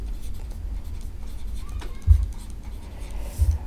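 A pen scratches out a plus sign during a maths problem on adding square-root terms: faint, brief strokes under a low background hum, followed by a couple of soft taps near the end.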